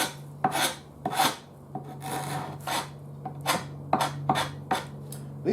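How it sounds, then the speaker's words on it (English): Rasping strokes of stripping the finish off the solid wood sides of a Zenith Boomerang radio, about a dozen scraping passes in an uneven rhythm, close and fairly loud over a steady low hum. "We'll just strip these sides here."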